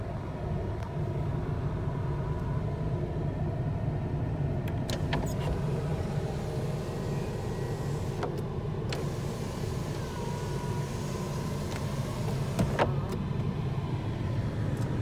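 A 1994 Acura Legend with 276,806 miles idles after a cold start, a steady low engine rumble with a faint whine, even and unbroken from nearby.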